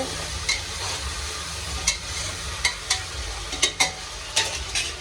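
Potatoes are stirred into spiced Gujarati vaghareliya rice in a pan, giving a continuous close sizzle broken by several sharp spoon scrapes and knocks at irregular intervals.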